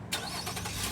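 A 2017 Nissan Murano SL AWD engine started by key fob remote start, an abrupt close catch that settles into a steady idle rumble.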